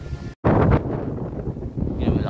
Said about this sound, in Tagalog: malakas po yung hangin ngayon dito kasi open area to